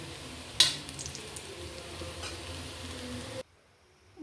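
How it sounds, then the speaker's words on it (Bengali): Raw banana koftas fry in hot oil in an iron wok, giving a steady close sizzle that opens with a sharp hissing burst, runs on evenly, then suddenly drops away to near silence. "কাঁচা কলার কোপ্তাগুলোকে আমি লোহার কড়াইয়ে ভেজে নিচ্ছি"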